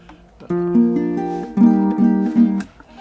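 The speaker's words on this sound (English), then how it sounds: "This is the sound of the super tenor, tuned." A super tenor ukulele plays a short series of bright, clear strummed chords, close and moderately loud, with a brief pause before the final strums ring out.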